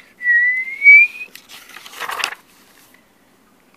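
A voice imitates a tea kettle whistling, a single rising whistle of about a second, followed by a brief breathy rustle, then quiet.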